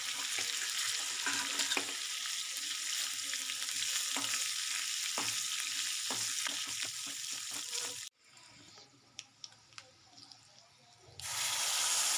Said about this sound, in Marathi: चटणीला फोडणी देण्यासाठी राई जिरे कढीपत्ता आणि मिरची छान फोडणी देऊन घेऊया